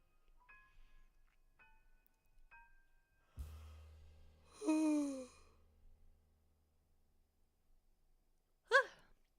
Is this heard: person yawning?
yes